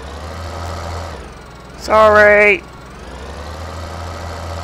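A tractor engine in the video game Farming Simulator 2013 hums at a steady idle, then briefly rises to a louder whining pitch before settling back, while someone speaks briefly.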